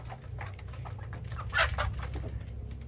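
Chickens on Siargao clucking and squawking nearby over a low background hum, with short irregular calls and one louder cry in the middle.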